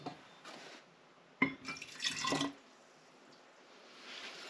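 Lukewarm water is poured into a sourdough starter in a short, soft splashing burst with a few faint drips around it, set in an otherwise quiet room.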